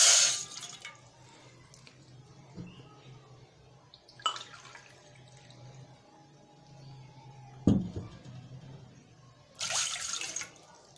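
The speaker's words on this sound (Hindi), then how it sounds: "अब हम इसमें पानी डालेंगे।" Cold water running from a tap into a pot on the stove for Kashmiri chai, a steady quiet pour with a few louder splashes and clinks, no talking over it.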